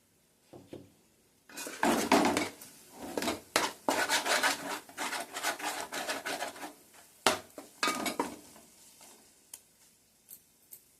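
Fish pieces dropped one after another into a hot frying pan for a special fish fry, with a series of sharp clacks and bursts of sizzling, close and fairly loud, easing off toward the end.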